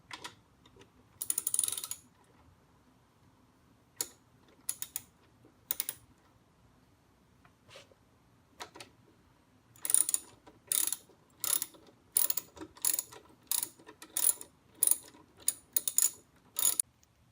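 Ratchet with a 12mm socket loosening screws while fitting a rear rack to a Kawasaki Vulcan S motorcycle; a few scattered clicking bursts early, then a fast regular series of close, sharp ratcheting clicks in the second half.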